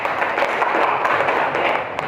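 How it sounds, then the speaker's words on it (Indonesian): Audience applause at a talk on diversity: a dense, steady wash of many hands clapping together, fairly loud and continuous for about two seconds, with no voices over it. "tepuk tangan dulu untuk Padel."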